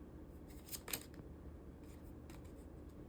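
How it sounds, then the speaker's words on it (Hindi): Tarot card drawn from a deck, with soft papery rubbing and a few crisp slides and flicks, quiet and close with no talk. "एक कार्ड और निकाल लेते हैं"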